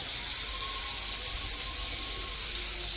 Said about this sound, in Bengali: বাটিটা হালকা একটু ধুয়ে দিই